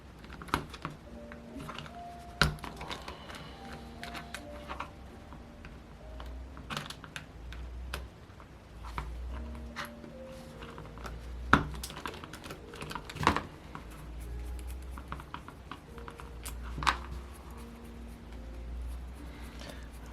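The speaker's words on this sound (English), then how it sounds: "This feels much better to take those screws off this way." Screws being worked out of a Rossi 61 AXE model engine, a run of small sharp metallic clicks and taps spaced irregularly over a low steady hum, close up with no talking.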